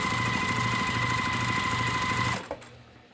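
A sewing machine runs steadily down a quarter-inch seam on a quilt block, fast even needle chatter close by and continuous, then stops abruptly with a small click near the end.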